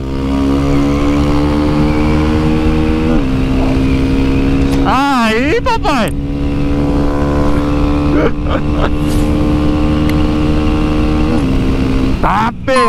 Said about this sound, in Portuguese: A minha moto tá forte